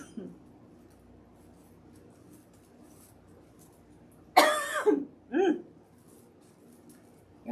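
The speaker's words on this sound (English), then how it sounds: "I get to talking and I get to coughing." A person coughs in a short burst of several harsh coughs, followed by a smaller throat-clearing cough, close and fairly loud against a quiet room while working on a rose gold owl wreath.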